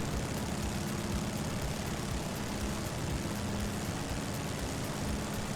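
A Cessna 195's propeller engine drones in Microsoft Flight Simulator 2020, a constant, dense, even roar filling the cabin without pause or voices.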